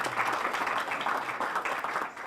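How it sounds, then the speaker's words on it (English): Audience at an outdoor park groundbreaking ceremony applauding: a brief, fairly soft spread of many hands clapping at a distance, steady throughout with no talk over it. "Give her a round of applause anyway."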